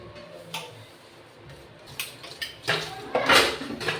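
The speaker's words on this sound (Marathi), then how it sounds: "मी आता भांडी घासून घेते." Dishes being scrubbed and rinsed at a home kitchen sink after dinner, with sporadic clinks and scrapes of pots, plates and cutlery that grow louder and busier toward the end, heard close with no talking.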